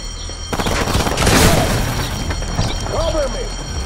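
Loud gunfire and booming blasts in the game Hatred roll on almost nonstop, close and heavy, with shouting voices mixed into the chaos.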